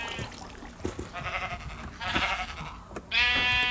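Several Minecraft sheep bleats ring out one after another, wavering and nasal, the last one loudest and close, over a faint background.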